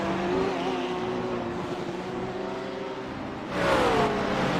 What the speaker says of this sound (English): See the straight line speed advantage there that Ferrari has out front as he pulls away from Handwork down into turn 10 here.